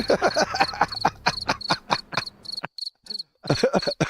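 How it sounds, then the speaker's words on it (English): Crickets chirp in rapid repeated pulses, loud and close, caught as a live feed cut in during a GR86 Nationals motorsport broadcast. Most of the chirping is continuous, with a short gap before it resumes. "Yep, the crickets."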